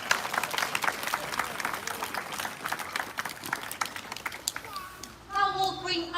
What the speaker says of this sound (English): So let's give her a last round of applause.